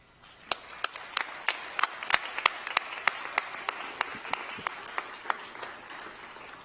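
Audience at an awards ceremony applauds, a sparse round of distinct individual claps ringing out steadily in a large room, fairly faint and without talk.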